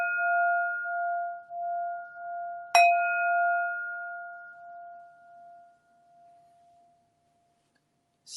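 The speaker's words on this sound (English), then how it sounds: "I move on to second bell." A meditation bell rings with a clear sustained tone that is struck again partway through, a bright strike followed by a long fading hum that dies away into silence.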